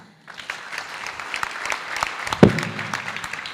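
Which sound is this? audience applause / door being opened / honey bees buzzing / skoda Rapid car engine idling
audience applause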